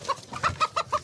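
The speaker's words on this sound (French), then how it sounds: "Ce sont des coqs d'ornement, des bêtes à concours." An ornamental Pekin bantam rooster, a show breed, gives a quick run of about five short clucks in an even rhythm, close by and fairly loud.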